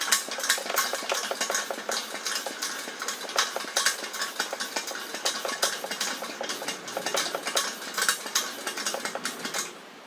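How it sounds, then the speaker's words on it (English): A vintage single-burner camp stove being pressurized by hand, with a steady train of quick rhythmic pump strokes and clicks repeating for about ten seconds, close and with no talking. "put about 20 to 30 pumps in there"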